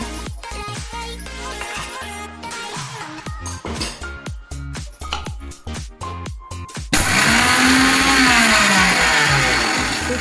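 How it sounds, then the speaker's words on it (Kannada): After several seconds of music, a loud mixer grinder grinding roasted spices whirs in abruptly, a harsh steady motor roar with a shifting pitch, close by. "ಇದನ್ನು ಮಿಕ್ಸಿ ಜಾರಿಗೆ ಹಾಕಿ ಪುಡಿ ಮಾಡ್ಕೊಂಡು ಬರೋಣ"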